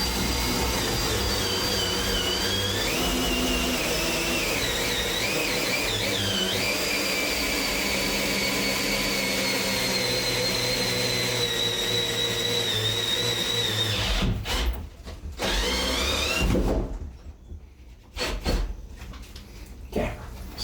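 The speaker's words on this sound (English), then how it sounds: "always start your drill above and then go into it with the drill spinning." A power drill whines steadily at high speed cutting into a 100-gallon water tank, a continuous loud grinding hum that cuts out and sputters near the end.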